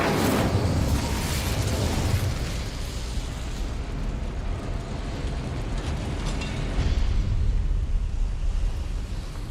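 An Incendio fire spell in Hogwarts Legacy roars as a loud, continuous rush of flame with a strong rumbling low end, swelling briefly at the start and again near the end, with no voices.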